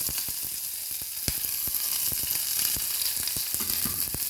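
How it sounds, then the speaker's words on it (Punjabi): Cumin and onion hiss and crackle in hot oil for Maggi noodles, a close, continuous sizzle marked by scattered sharp pops and a few stirring scrapes, with no voices. "ਹੁਣ ਇਹ 'ਚ ਆਪਾਂ ਪਾਉਣੇ ਥੋੜਾ ਜਿਹਾ ਜੀਰਾ ਤੇ ਉਸ ਤੋਂ ਬਾਅਦ ਨਾਲ ਦੀ ਨਾਲ ਇਹਦੇ 'ਚ ਪਾ ਦਾਂਗੇ ਆਪਾਂ ਪਿਆਜ਼"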